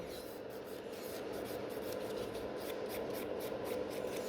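A 180 grit file rubs lightly over a natural nail during gel extension removal, a soft, close, rhythmic rasping of quick repeated strokes, faint overall and with no speech.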